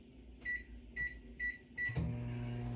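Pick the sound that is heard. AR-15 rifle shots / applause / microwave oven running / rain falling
microwave oven running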